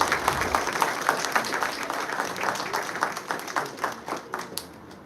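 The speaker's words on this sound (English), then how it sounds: "Please give her a huge round of applause." An audience applauds a student debater called to the stage at a school debate competition, a full burst of crowd clapping that thins into scattered separate claps as it dies away.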